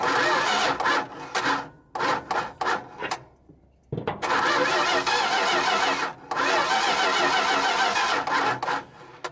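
A 1973 Dodge D100 engine with weak ignition spark cranks repeatedly without catching, several loud bursts of starter grinding broken by short pauses, close and alone.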